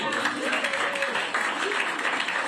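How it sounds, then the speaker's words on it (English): A crowd applauds steadily throughout, a dense, even wash of clapping heard from a distance, with no single claps standing out. "Oh, but they all clapped for it."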